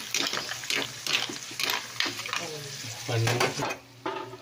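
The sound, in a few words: mussels (tahong) being sautéed and stirred in a pan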